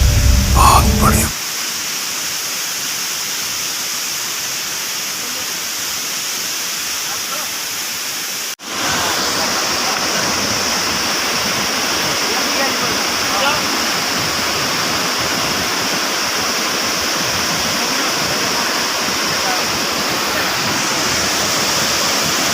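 Sana Ghagara waterfall in Keonjhar roars as steady, loud broadband rushing water, with a brief voice at the very start and a short dip near nine seconds before the constant torrent resumes.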